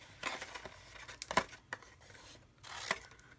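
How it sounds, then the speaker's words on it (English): Scissors snip through folded card stock in a few short, crisp cuts with paper rustling between them, close and quiet. "I'll just eyeball it and cut this right inside that edge"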